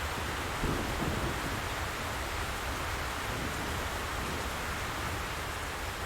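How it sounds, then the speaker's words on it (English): Heavy, steady rain in a video game roaring as a dense wash of noise, unbroken throughout with no voices. "Oh my god, it's raining hard."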